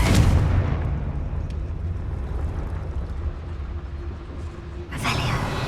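A Confringo fire spell explodes in Hogwarts Legacy, a loud boom that opens the clip and settles into a rumbling tail, with a second burst near the end.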